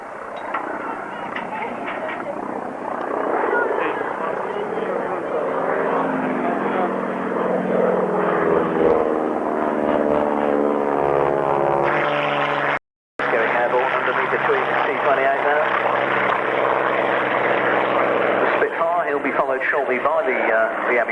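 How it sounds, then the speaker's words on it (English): A Spanish-built ME-109 fighter with a Merlin engine flying at a classic jets and fighter airshow, its propeller engine droning loudly and steadily over a public-address commentator who talks throughout, with a brief dropout partway through. "This is actually a Spanish-built version of the ME-109 with a Merlin engine in the front."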